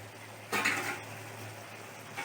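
Fried fritters for a banana-flower mochar ghonto tip into a pot with a single short clatter of metal, followed by a quiet, faint stir.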